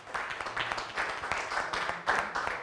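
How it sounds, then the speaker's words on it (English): Audience applause at an academic conference session, a broad wash of clapping that swells and dips over a few seconds, moderately distant, with a brief voice mixed in. "let's give them a round of applause"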